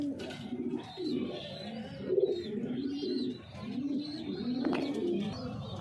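Pigeons cooing close by in repeated low throaty rolls, several birds overlapping in a continuous murmuring run with a few higher chirps, no talk.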